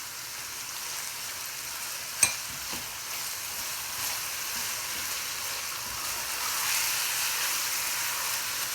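Grated carrot halwa roasts in ghee in a pan over a medium flame, a soft steady sizzle with faint stirring scrapes and one sharp clack of a spoon against the pan.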